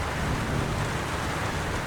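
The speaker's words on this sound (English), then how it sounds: "And then, it started to rain." Steady, dense rainfall hisses evenly throughout, a continuous wash of drops with a low rumbling undertone, no voices present.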